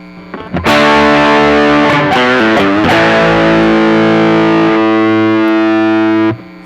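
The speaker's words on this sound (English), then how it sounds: "It's overdriving. Turn up the drive a little bit." Modified NOTADÜMBLË guitar pedal pushed into overdrive, a thick, sustained distorted guitar tone ringing loud and steady for about six seconds, with a brief shift in the chord partway through before it cuts off.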